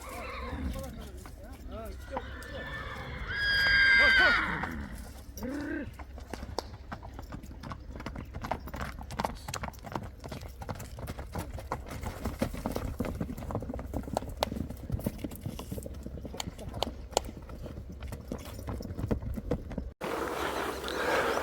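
Thoroughbred horses in a stable yard walk with a steady clip-clop of hooves, and one loud whinny rises early on, while someone talks over much of it.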